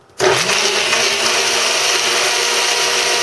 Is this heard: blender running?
yes